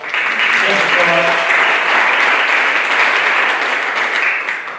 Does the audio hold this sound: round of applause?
yes